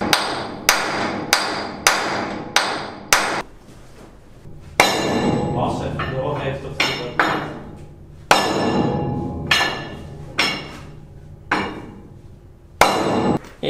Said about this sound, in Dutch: Dus die kunnen we langs deze kant nou eruit timmeren.